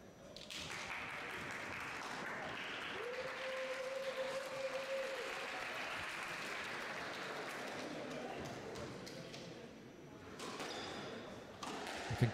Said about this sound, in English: I think Crouin just wanted some more applause before we start.